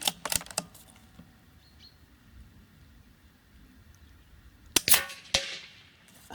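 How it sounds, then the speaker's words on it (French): Rifle shots from a CZ 457 fired into bamboo at about 100 metres ring out as a few sharp cracks at the start, then a quiet outdoor stretch, then another crack with a rattling impact, fairly close, with no speech. "Ça fait un drôle de bruit quand on tire dans le bambou"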